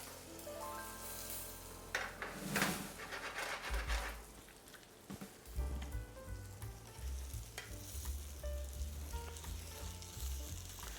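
Food frying in a pan sizzles steadily up close with a bright crackling hiss, and occasional low clatters of the pan as it settles.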